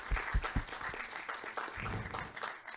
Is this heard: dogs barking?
no